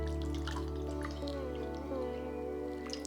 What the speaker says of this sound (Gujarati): એટલું જ સામે પાણી નાખીએ છીએ